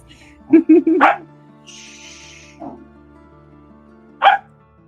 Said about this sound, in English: Sorry about the barking puppy, guys.